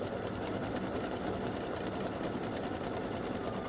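Embroidery sewing machine running steadily while satin stitching an appliqué design, a dense continuous mechanical whir with a fast needle rhythm, close and even throughout, with no talking.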